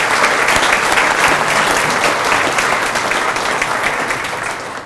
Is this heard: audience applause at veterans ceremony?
yes